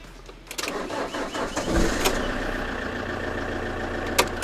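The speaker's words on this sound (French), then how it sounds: "Le véhicule démarre impeccable." A Fiat, Peugeot or Citroën camper van engine cranks briefly and catches after a battery change, then settles into a steady, close idle rumble.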